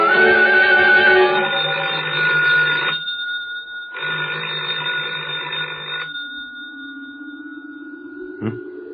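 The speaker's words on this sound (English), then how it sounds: "I thought I heard a phone." An old-style telephone bell rings loudly in two long bursts separated by a pause, followed by a sustained electronic tone and a brief click, in a radio drama scene.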